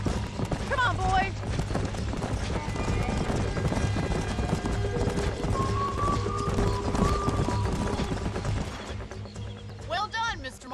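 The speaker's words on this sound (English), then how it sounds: "These are fine horses." Horses gallop in the Red Dead Redemption video game, their hooves clip-clopping in a rapid, continuous rhythm with occasional neighs and whinnies, while voices speak over the action.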